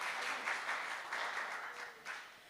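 Audience clapping at a Hindi poetry recital, a kavi sammelan, a fairly faint but continuous patter of many hands with small swells, heard alone without speech.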